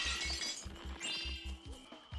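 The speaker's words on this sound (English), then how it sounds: "you'll just hear or see a smashing vase in the background for no reason" A vase shatters with a bright glassy crash in Spyro: Enter the Dragonfly, set over rhythmic low game music with scattered clinks trailing after.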